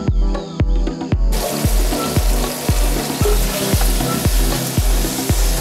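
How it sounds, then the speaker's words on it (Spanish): Food sizzling in a hot frying pan while making tapado de hoya, a loud steady crackle with a regular low thumping beneath it, no talking. "dejar freír hasta que se pongan un poco cafés, otra vez asegurándose que no se quemen"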